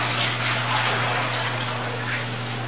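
Filtered biodiesel feedstock poured from buckets into the top of bag filters, a steady loud rushing pour that continues without break, alone and close with a faint low hum underneath.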